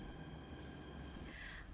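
A Jakarta MRT train running, a steady low rumble of wheels on rail with a faint high squeal rising near the end, continuous and without voices.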